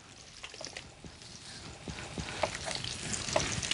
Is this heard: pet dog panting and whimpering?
no